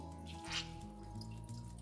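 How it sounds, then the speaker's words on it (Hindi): Fresh chhena curd for orange rasgulla squeezed by hand, its whey running and dripping out in a steady watery trickle with a brief splashy burst, over a low humming background. "अब हमको इसे हाथ से दबाते हुए इसका पानी सारा निकालना है"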